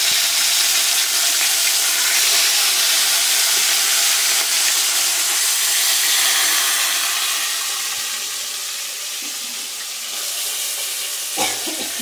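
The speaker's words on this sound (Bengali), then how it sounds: "মাছগুলোকে আমি দিয়ে দিচ্ছি" Fish pieces for a Bengali mustard fish curry go into a hot oiled pan, giving a loud, continuous close hiss of frying that eases off toward the end, with a brief clatter near the finish.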